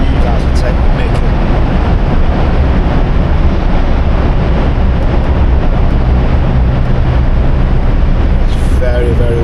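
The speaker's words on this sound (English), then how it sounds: "It's very, very windy here." Strong wind buffets a microphone along a road near mountain passes and vineyards in Castilla y León, producing a loud, constant roaring rumble with no letup, and brief faint higher hisses near the end.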